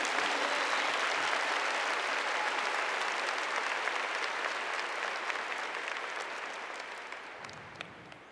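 A church congregation at a Catholic service applauds in a broad, sustained wash of clapping that gradually tapers off near the end, with no talking over it.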